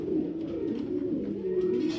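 A Danish pigeon coos softly and steadily close by, a low, rolling, continuous murmur with faint background noise.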